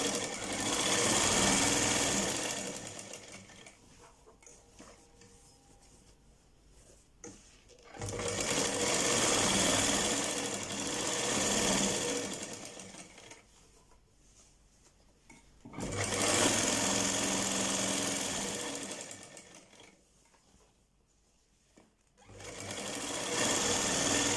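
A sewing machine stitches the seam of a ladies' trouser in three long bursts of rapid mechanical whirring, separated by quieter pauses, with no talk.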